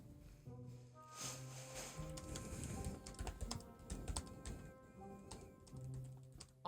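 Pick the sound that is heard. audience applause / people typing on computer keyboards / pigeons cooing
people typing on computer keyboards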